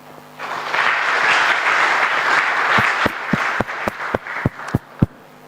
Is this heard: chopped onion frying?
no